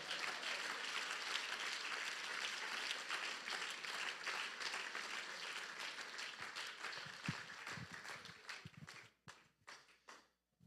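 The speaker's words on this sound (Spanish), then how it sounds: "Dele ese aplauso a Él" Applause from a church congregation rolls on as a broad wash of clapping, then thins into scattered individual claps that die away.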